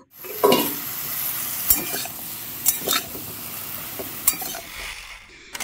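Vegetables with turmeric and salt are stirred in hot oil, a soft steady sizzle broken by several sharp scrapes and clinks of a spoon against the pan, with no voices.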